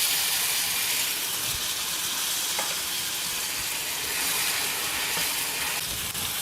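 Tomatoes hit a hot pan of sautéed onions while a home-style ginger gravy cooks, giving a loud, steady hiss and sizzle that runs unbroken with faint stirring, and no voices.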